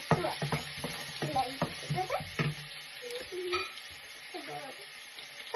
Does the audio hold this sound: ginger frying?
yes